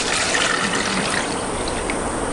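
Coconut milk poured back into a mixing bowl for Torres Strait Island subi subi fried scones, a steady continuous liquid splash and trickle, close and fairly loud, with no talking.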